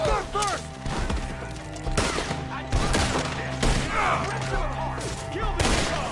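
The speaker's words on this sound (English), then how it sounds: "Shoot the ones up there first!" Rapid gunfire aimed at enemies up in the trees, loud bursts of shots cracking repeatedly through a chaotic scene, with shouting voices mixed in.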